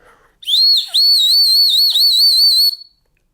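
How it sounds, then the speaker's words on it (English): A piercing, very loud whistle from a survival pen blows alone, rising and wavering in pitch with a short break partway, then cuts off. "It's very high pitched, very loud. So anyway, there, you heard it. Yeah, it is a whistle"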